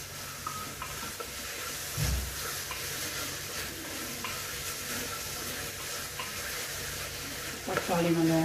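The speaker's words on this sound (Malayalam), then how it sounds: "തക്കാളി നല്ലോണം വഴറ്റിയതിന് ശേഷം" Tomatoes stirred and sautéed in a pan with salt, a steady low sizzle and faint stirring scrapes throughout, with a brief knock partway through and a short voice-like sound at the very end.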